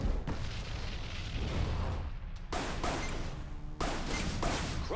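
Missile launch and explosions in the space combat game EVERSPACE, heavy continuous booming and whooshing blasts with rumbling bursts that swell and cut off, loud and dense throughout.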